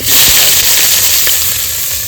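Onions dropped into hot oil set off a loud, steady sizzle that fills the whole moment, close and hissing without a break.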